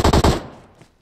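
Rapid automatic gunfire in PUBG Mobile, a quick burst of three loud, close shots followed by a faint tail and a couple of distant pops.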